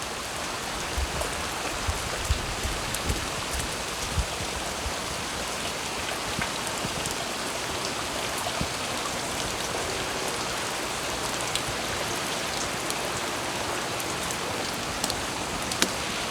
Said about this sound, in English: so far, it's just a bunch of rain